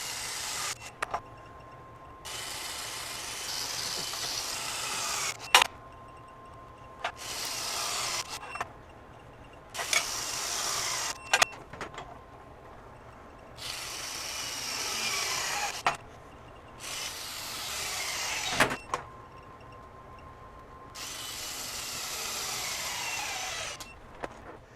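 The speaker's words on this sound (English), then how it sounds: "we're going to torque these fasteners starting at 150 foot-pounds" A FLEX FX1451 24V mid-torque impact wrench tightens fasteners in repeated bursts of loud rattling hammering, each lasting a couple of seconds, separated by short pauses and clicks.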